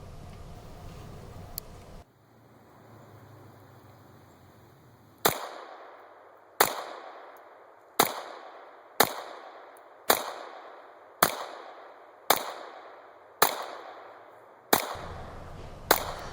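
A Sig Sauer P226 .22LR training handgun fires about ten sharp, evenly spaced shots, each crack ringing out with a short echo after a quiet pause.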